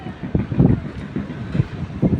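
Gusty wind buffeting the microphone in low, rumbling surges, steady and fairly loud, with no voices.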